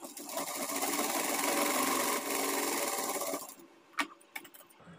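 A sewing machine runs a continuous stitching line along a blouse lining for about three and a half seconds, loud and close, then stops, leaving a few faint handling clicks.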